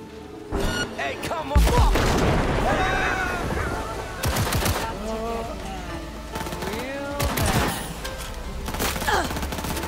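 Rapid weapon fire in the video game Cyberpunk 2077, at night in the rain, comes in several loud bursts spread across the scene, with voices and other game sounds mixed between the volleys.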